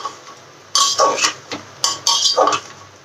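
A spoon clinks and scrapes against a metal cooking pot while salt and sugar are stirred in with slit green chillies for a fish-head and bottle-gourd dish, a handful of sharp bursts spread unevenly over a few seconds.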